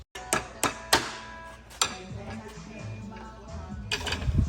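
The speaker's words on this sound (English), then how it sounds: "we need a hammer to get the last cell in there" Hammer blows tapping a swollen battery cell into place in a hot Toyota Prius hybrid battery pack, a handful of sharp close knocks early on, then scraping and handling noise with a few more taps near the end.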